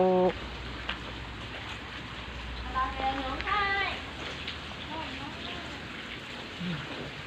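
Steady rain falling on surfaces outdoors during work, a soft continuous hiss running throughout, with a person talking briefly over it.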